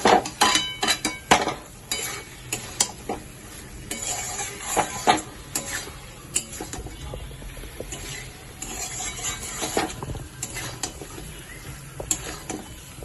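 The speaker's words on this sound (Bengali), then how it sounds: "এটা দিয়ে কিন্তু মিনিট 2 আমি একটু ভালো করে কষিয়ে নেব।" Fried potatoes being sautéed with spices in a pan for Kashmiri aloo dum, with repeated spatula scrapes and clanks against the pan over a low sizzle, coming in irregular bursts close up.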